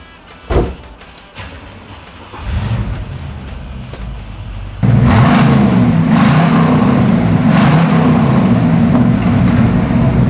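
A 1969 Pontiac Firebird 400 V8 engine cranks and catches, then settles into a loud, steady rumbling idle with deep low throb, close by and without talk.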